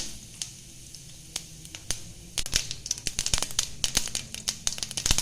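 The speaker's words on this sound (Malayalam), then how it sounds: "ഇതിനകത്തേക്ക് പെരിഞ്ചീരകവും കടുകും ഇട്ട് ഞാൻ പൊട്ടിച്ചെടുക്കുകയാണ്" Fennel and mustard seeds crackle in hot oil, a few scattered pops at first, then a dense burst of sharp snaps over a soft sizzle.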